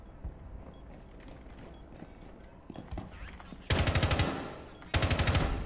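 Gunfire in the Rainbow Six Siege video game: quiet rattling and footsteps give way to two loud bursts of rapid automatic fire, the second cut short.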